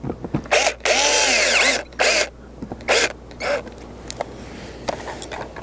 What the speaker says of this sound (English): Now I'm going to go ahead and just put those screws in, the holes I just drilled.